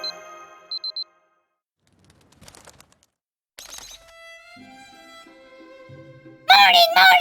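A game alarm in Fate/Grand Order rings in short repeated beeps at first, followed by scattered clatter, tonal game chimes and then a loud voice.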